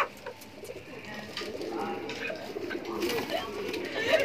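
Allahabadi pigeons coo softly in a loft, with low rolling calls repeating throughout while someone talks over them.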